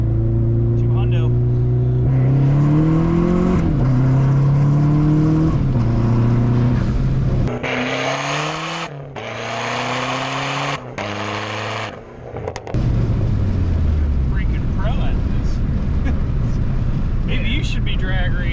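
An SRT4 car accelerates hard through the gears in no-lift shifts, the engine note climbing and dropping with each shift, loud from inside the cabin, then easing off to a steady hum; people talk over it.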